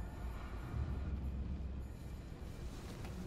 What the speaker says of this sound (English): I bet there's some train coming.